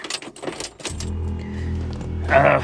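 Car keys jangle near a 1965 Cadillac, a few quick metallic shakes at the start, followed by a low engine hum that swells toward the end.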